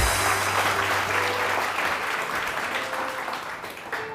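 Studio audience on a live TV morning show applauds in a dense, steady wash of clapping that holds at an even level for the whole stretch, with no voices standing out.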